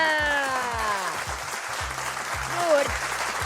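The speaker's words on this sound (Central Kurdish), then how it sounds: "چەپڵە" A studio audience of a TV quiz show applauds after a count of one, two, three, a busy patter of clapping under talk, with a steady thumping beat and a sliding musical tone running beneath it.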